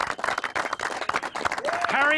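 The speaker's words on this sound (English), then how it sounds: "give him a round of applause" An audience at a bass fishing tournament weigh-in at Cania Dam, Queensland, gives a short burst of clapping while an announcer talks loudly over it.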